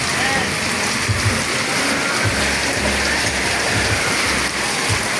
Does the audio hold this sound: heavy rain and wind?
yes